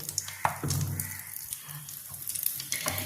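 Nigella seeds tempering in hot oil left from frying fish, a soft crackling sizzle with scattered pops and a few clinks, close and alone.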